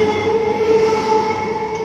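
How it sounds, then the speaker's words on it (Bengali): A train pulls out of Baghajatin station, a steady loud rumble with sustained tonal whine alone throughout, no talk. "চলো ট্রেনটা বেরোচ্ছে"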